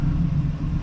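A 1986 Oldsmobile 442 with Quadrajet carburetor trouble idles with a stumbling engine, heard up close as a loud, low, uneven rumble that pulses in brief surges.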